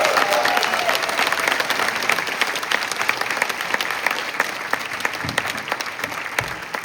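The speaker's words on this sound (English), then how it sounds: "Let's give them a big round of applause." A high school jazz ensemble at a summer music camp receives a big round of applause from the audience, dense steady clapping that stays loud throughout before easing slightly at the end.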